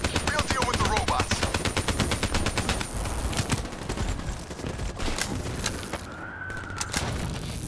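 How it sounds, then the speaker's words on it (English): Gunfire in the Call of Duty: Black Ops 3 campaign comes as a rapid, loud machine-gun burst that fades into scattered shots and booms, with a voice briefly heard under the fire. "Give us some cover fire."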